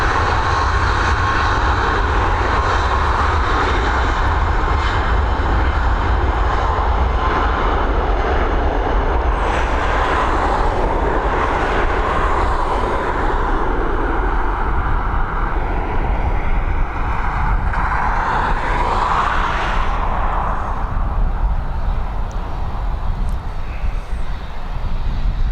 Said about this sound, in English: 3 years old, registered in October of 2019, this Boeing 737 Max.